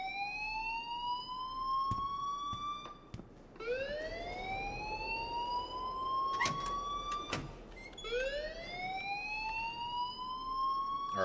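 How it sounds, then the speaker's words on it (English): A school alarm in the video game Life is Strange wails in repeated rising electronic sweeps, steady and fairly loud, cycling every few seconds with no talking over it. "please turn off that alarm since that's your job."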